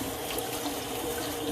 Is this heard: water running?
yes